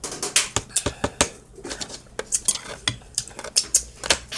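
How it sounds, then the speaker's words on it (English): A metal spoon scrapes and clinks against a pan or dish, spooning butter and garlic sauce onto salmon; quick irregular close taps and clatters keep coming at a steady pace, without any talking. "I'm putting that butter and garlic sauce on here"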